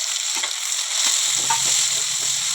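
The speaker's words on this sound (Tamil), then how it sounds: "தக்காளி நல்லா வதக்கணும்." Tomatoes sautéing in a pan with browned onions and green chillies for a Sivaganga-style fish curry, a loud constant sizzle with soft stirring scrapes, close and uninterrupted, no voices.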